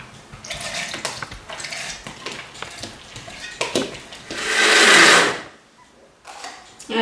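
Mixer grinder grinding soaked urad dal and fenugreek into batter: short clattering whirs and clicks, then a louder sustained grinding roar that cuts off abruptly.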